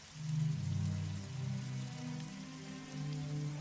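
Steady rain falls as ambient background for a tabletop role-playing game, a soft continuous hiss with a low droning hum underneath and no voices.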